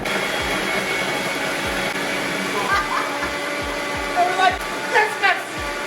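A blender whirs steadily as it mixes a Manuka honey chai smoothie, a loud, continuous motor drone with rhythmic low thumps and a few brief, higher squeaky bursts near the end, and no one speaking.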